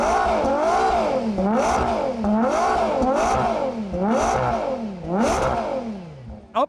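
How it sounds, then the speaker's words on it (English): A Ferrari Purosangue's V12 engine revs repeatedly, rising to a sharp howl and dropping back about six times in quick succession, loud and close, with no speech. "Take a listen to a few revs."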